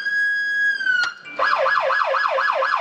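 A steady siren tone from a Dodge Charger police car gives way after a short click to a fast, rhythmic warbling wail, loud and close.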